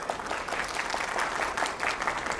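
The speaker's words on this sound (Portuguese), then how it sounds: "Queria pedir uma salva de palmas." Applause from a conference audience, steady and moderate under a busy hall wash, sustained for a few seconds with no speech over it.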